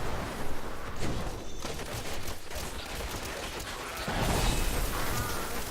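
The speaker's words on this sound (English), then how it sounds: "These frost explosions are really annoying." Dense, crackling bursts of frost explosions in Diablo 3 roll on without pause, loud and noisy across the whole clip, with a heavier surge near the end.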